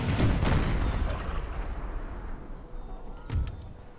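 Cannon and rifle fire in an American Civil War video game mod, with a heavy rumbling volley at the start that fades into a dense roll, then another close boom near the end.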